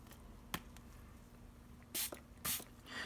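Two short, sharp spritzes from a spray bottle misting water onto a folded paper towel, close and fairly loud, after a faint click, in an otherwise quiet room.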